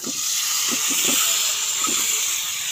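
Eggs seasoned with salt and turmeric fry in a pan, giving a loud, continuous steamy hiss close by, with a few soft low bumps under it.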